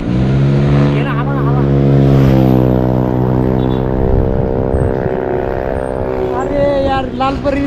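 Racing motorcycles at the MRF NRC bike rally in Harsul scream past with rising and falling engine revs, loud and close at first and then trailing off, as excited voices talk over them.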